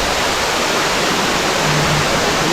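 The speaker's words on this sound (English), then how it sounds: "So you may be able to hear it already, but there is a waterfall." A waterfall in Nice roars in a loud, unbroken broadband rush, close and constant, with no voices over it.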